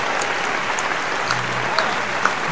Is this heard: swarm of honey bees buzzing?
no